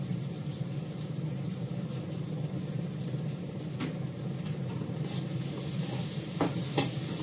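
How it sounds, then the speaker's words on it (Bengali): Food sautéed in a pan with salt and turmeric, a continuous close sizzle with a spatula scraping and stirring, a few sharper clinks toward the end. "ভালো করে কষিয়ে নুন দিয়ে দিলাম, হলুদ"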